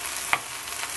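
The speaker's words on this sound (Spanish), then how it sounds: "Continuamos cocinando los camotes del cerro." Wild sweet potatoes (camotes del cerro) cooking in a pan, with a steady soft sizzle and one brief stirring scrape near the start, close and alone with no talk.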